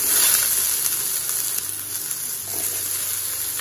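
Cauliflower sizzles loudly in a hot oiled pan for kung pao cauliflower, a steady, bright frying hiss that runs continuously from close by, with faint stirring scrapes beneath.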